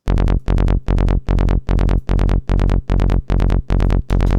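A loud, punchy psytrance synth bassline in a driving rhythm, repeated short bright notes with an opened filter giving a clicky, buzzy edge.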